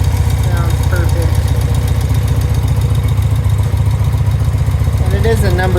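A 1976 BMW R90/6 Havana Gold airhead motorcycle idles with a loud, close, steady rhythmic thumping, the even pulses continuing throughout, and a brief voice is heard near the end.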